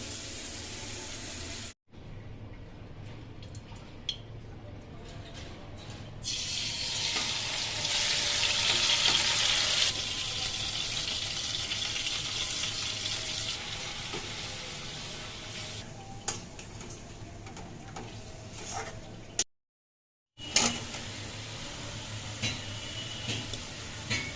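Surma fish sizzles steadily in hot oil, a continuous frying hiss with occasional stirring clinks and one brief pause.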